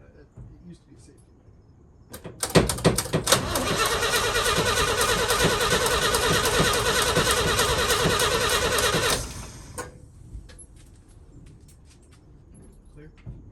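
A 1966 International Harvester 1100A truck engine, left entombed for 24 years, cranks and catches in a loud, dense roar that runs about seven seconds and then cuts off, with voices talking briefly before and after.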